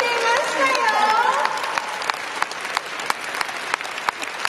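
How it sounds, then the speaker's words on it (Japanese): A crowd applauds, the clapping thinning into scattered claps, while a voice talks over the start. "皆さん拍手を送ってください。"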